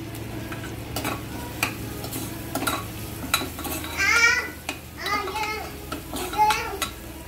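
Bay leaf and cinnamon fry in oil for a vegetable pulao, giving a soft sizzle mixed with stirring and pan clatter, while voices are heard in the background.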